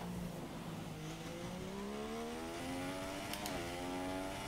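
An F1 race car in the F1 2016 video game winds up through rising engine pitch with a brief shift partway, a continuous fairly faint whine with no talk over it.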